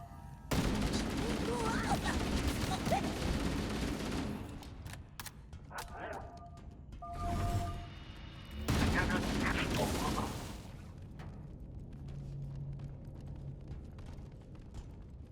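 Gunfire during a Halo battle aboard a Covenant ship, with loud stretches of bursts and explosive blasts that come and go, separated by quieter gaps and mixed with other game sounds.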